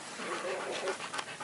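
A dog pants in quick, breathy bursts with faint whimpering, close by and fairly quiet, while people talk over it.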